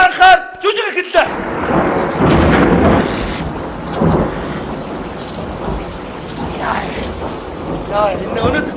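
Rain and thunder on a rainy day: a deep rumble and crash of thunder breaks after a short quiet start, then steady rain and rolling thunder continue loudly throughout.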